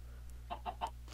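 Minecraft chickens give three short, soft clucks in quick succession, faint over a steady low electrical hum in an indoor game setting.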